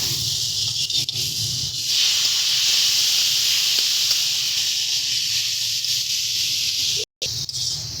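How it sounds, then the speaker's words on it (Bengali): Jackfruit seeds added to a pot of simmering, well-fried spice masala for a Bengali dried-fish curry, giving a loud, steady hiss that runs throughout and breaks off briefly near the end. "দিয়ে দিচ্ছি কাঁঠাল দানাটা"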